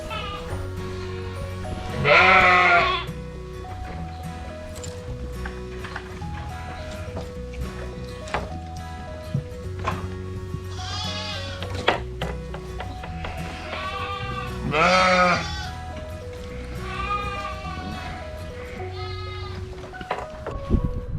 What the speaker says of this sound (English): we're here at the shed where we brought our sheep here